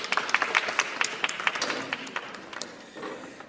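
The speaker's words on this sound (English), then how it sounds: "I just want a big round of applause for Felicia Egan." Scattered audience clapping at a live art show honoring a performer, sharp distinct claps that start fairly strong and gradually thin out and fade toward the end.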